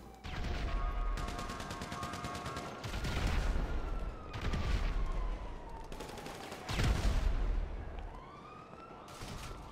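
Gunfire bursts and fusillades from the video game GTA V, several loud volleys with gaps between them, mixed with a wailing police siren and other game effects, with no talking.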